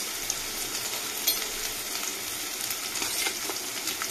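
Prawns fry in hot oil in a pan, with a continuous close sizzle broken by light stirring scrapes and spatters.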